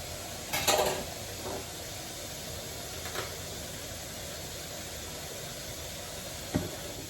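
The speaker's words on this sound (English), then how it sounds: "Now I have to wash the spoon." A spoon being washed in a home kitchen sink, with a few light clinks and knocks of the spoon against the sink over a steady background hiss, the strongest cluster coming early.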